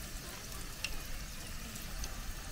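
Banana fritters frying in hot oil at a campsite give a faint, steady sizzling hiss, with a few brief crackles and no talk over it.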